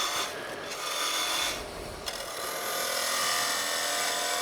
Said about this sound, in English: Peel cut with a skew.